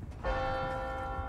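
A single church bell strike in Resident Evil 4 Remake rings out with a bright, sustained tone that hangs on without fading over a low background rumble.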